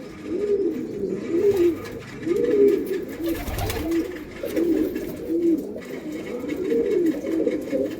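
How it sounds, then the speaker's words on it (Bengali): Kalanka pigeons coo repeatedly in soft, rolling phrases, several birds overlapping at close range with a steady background murmur. "মেল পায়রা, ফিমেল পায়রাও দেখাচ্ছি।"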